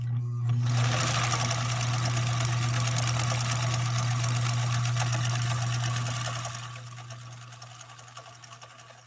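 A Swedish sewing machine stitches a cam-controlled pattern with a loud, steady mechanical hum and fast rhythmic clatter that winds down and stops near the end.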